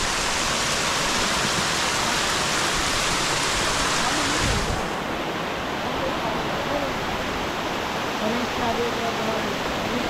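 A waterfall beside a trekking trail on the Bhimashankar route from Murbad, a steady broadband roar of falling water that runs loud and unbroken throughout, with its upper hiss dropping away partway through.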